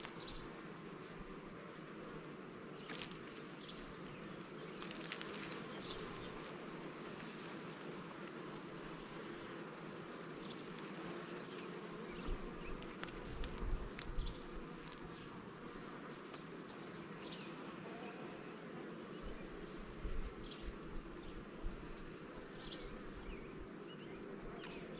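Honeybees buzzing around an opened hive, a steady low drone with scattered louder passes of bees close to the mic and no talking.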